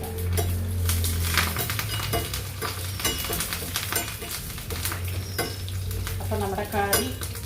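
Curry leaves and dried red chillies sizzle in hot oil over cooked onion while tempering a mango pulissery, steady frying hiss with stirring and spoon clinks against the pan, close and continuous, no talking.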